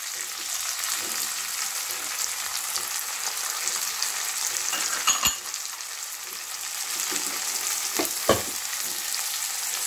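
Capsicum, carrot and other vegetables sizzle steadily in a hot pan for upma, a continuous close frying hiss with a couple of brief sharper clinks of stirring, no talk.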